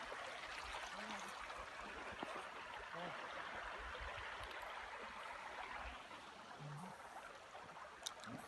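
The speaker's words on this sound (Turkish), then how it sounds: "Evet burası dere." A small stream flows beside a farm field in rural Turkey, a steady continuous babble and trickle of water, fairly quiet with faint occasional bird chirps.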